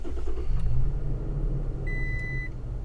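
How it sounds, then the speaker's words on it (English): Push-button start of a 2017 Toyota Tacoma TRD Sport truck, heard from inside the cab: a low engine rumble settling into a steady idle, with a short electronic chime beep near the end and no voices. "I'm going to push the start button, turn on the truck."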